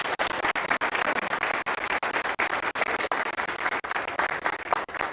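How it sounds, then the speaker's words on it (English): An audience at a Law Day event in a courtroom claps in a continuous, fairly loud round of applause, a dense patter of individual claps holding steady from start to finish. "please give them one more round of applause"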